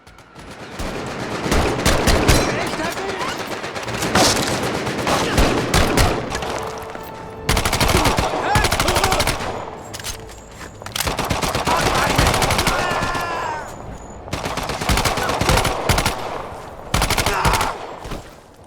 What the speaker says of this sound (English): Medal of Honor still gives you really good immersive gunfights